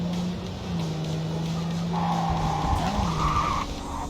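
A car in the Cyberpunk 2077 video game skids through a handbrake turn, with a rising tire squeal over a steady engine hum that ends after a few seconds.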